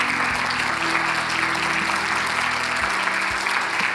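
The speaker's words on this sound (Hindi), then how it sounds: "एक बार जोर से यीशु के नाम की ताली बजाओ।" A congregation at a Christian sermon clapping loudly together, a steady, dense applause that runs for the full few seconds over a low sustained musical drone.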